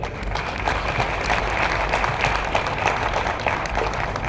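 Dense, continuous applause from a large crowd at a national-stage business event, loud and even for several seconds with no talking over it.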